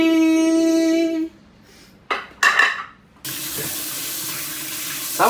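Sea snails are rinsed under a running kitchen tap, with water hissing and splashing into a sink in short bursts followed by a steady close stream, after a sustained tonal hum at the start.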